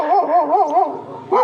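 A female dog lets out a wavering, howl-like string of barks up close, then a final short yip after a brief pause, with no voices.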